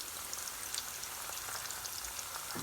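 Cabbage Manchurian balls fry in a pan of hot oil over a medium flame, giving a steady, soft sizzle with fine crackling throughout and no talk.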